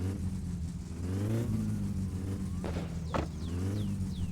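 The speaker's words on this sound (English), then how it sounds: "This just sounds like a proper car now. I mean, it's backfiring" A car engine runs and revs in the My Summer Car video game, a loud, close, rough mid-range drone that climbs in pitch, with sharp popping backfires near the end.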